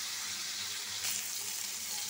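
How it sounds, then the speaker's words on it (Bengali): Pieces of mirkha fish fry in a pan over raised heat with a dense, even hiss that swells slightly midway, heard close and alone. "মাছগুলা ভাজি হোক"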